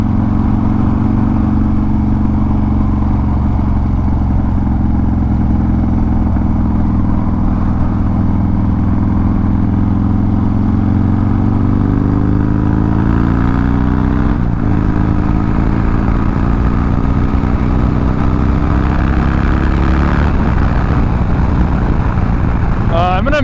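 Harley-Davidson motorcycle engine droning steadily while riding on a road, loud and continuous with rising and falling pitch as the bike accelerates, wind noise mixed in.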